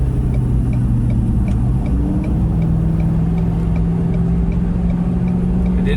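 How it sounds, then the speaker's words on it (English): Truck engine under exhaust braking while descending a hill with a HitchHiker RV in tow: a steady low droning rumble with shifting engine tones, loud and continuous throughout, accompanied by faint regular ticking. "the exhaust brake might not be as good, but like for my purposes, it's great"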